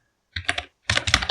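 Close, brisk computer keyboard typing as a terminal command is entered: two quick bursts of clustered keystrokes separated by a short pause, clear and fairly loud.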